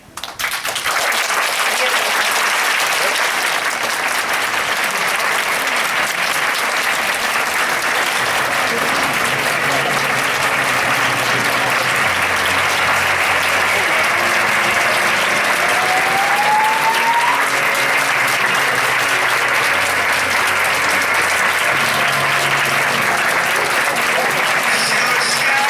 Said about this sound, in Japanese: 本当にね、皆さん大きな拍手で迎えてください。